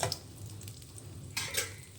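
Mustard seeds and lentils crackle in hot oil in a pan, a soft frying hiss broken by a few sharp pops and a brief clatter near the end, close and quiet, with no talking.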